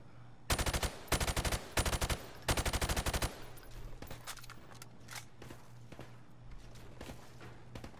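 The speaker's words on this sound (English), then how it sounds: "Now shoot at the targets while firing from the hip." Rifle fire on a Call of Duty 4 Modern Warfare Remastered firing range, shooting at targets from the hip: several loud, rapid automatic bursts in quick succession, then quieter scattered shots and faint thuds over a low hum.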